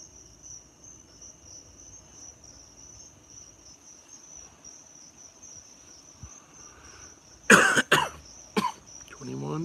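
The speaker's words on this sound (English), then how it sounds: "The crickets don't really change much, though." Crickets chirp steadily at night as a continuous high trill, with a few loud coughs and throat-clearing sounds near the end.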